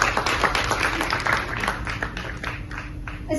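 Applause from the audience at a theatre festival, moderately loud scattered clapping with uneven bursts, a fairly small crowd heard without talk.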